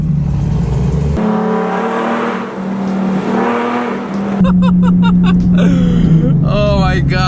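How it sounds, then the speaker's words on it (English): Nissan 370Z engine revving hard during downshifts, with sharp throttle blips and loud, close exhaust rising and falling over rapid gear changes, a voice talking over it at times. "Downshifting in this car is probably the funnest thing to do."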